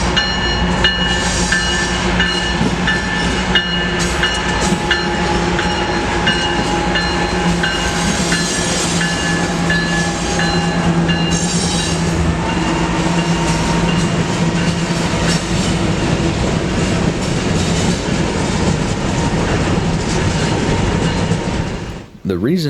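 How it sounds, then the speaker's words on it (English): A long, heavy coal train rolls steadily past in Galesburg, Illinois, with continuous wheel rumble, rhythmic clickety-clack over rail joints and squealing metal, close and loud throughout before it abruptly drops off at the end. "shortly after the grainer left, a monster coal train came rolling through"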